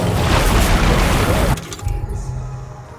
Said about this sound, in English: This dart cannon is just basically useless against this guy.